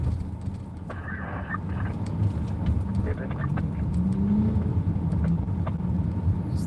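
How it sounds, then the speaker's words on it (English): A motorcycle with no exhaust revs its engine on a New York City road. It sounds as a rough, rising growl inside constant, loud traffic noise. "Thought I heard him just rev his engine."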